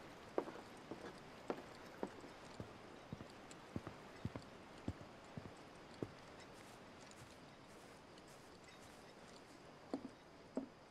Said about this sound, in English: Follow the sound of footsteps into the garden.